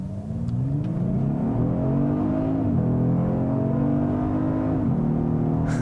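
A 2018 Genesis G80 Sport accelerates hard with a steady engine roar that climbs, drops briefly at an upshift, climbs again and shifts once more, heard from inside the car with no talk.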